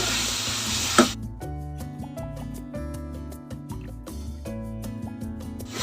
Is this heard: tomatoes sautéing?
yes